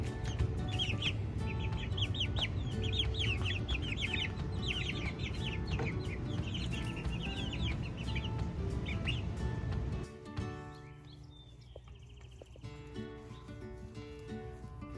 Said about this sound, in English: These are the Cornish cross that we got from Murray McMurray Hatchery.